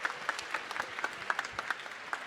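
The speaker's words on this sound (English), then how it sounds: "Let's give another round of applause for our top 10" Audience applause at a hackathon closing ceremony after the top 10 demos: scattered claps from a moderate crowd, fairly distant and modest in volume, steady for a couple of seconds.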